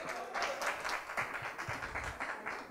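Applause from the audience at an investment forum on small-business financing, a brief burst of many hands clapping together in a dense, moderately distant patter, with faint voices mixed in.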